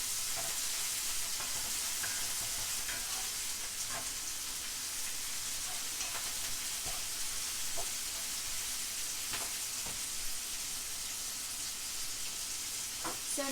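Pasta ingredients sizzle and crackle steadily in a hot pan, a dense continuous fry broken by occasional scraping stir strokes, close and without talk.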